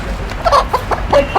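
A chicken on the run clucks in short, sharp bursts, five or six loud close calls in an uneven rhythm over a steady outdoor background.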